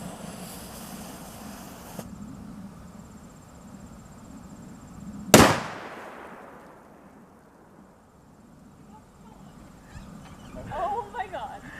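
Firecrackers set off inside a blender cup burst in one sharp, loud bang that decays over a couple of seconds, preceded by a low hiss and followed by quieter background noise.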